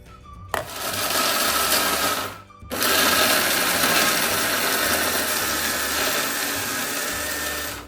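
A mixer grinder whirs loudly and steadily grinding garlic and coriander into paste, stops for a brief moment, then starts again and keeps grinding at full power until the end.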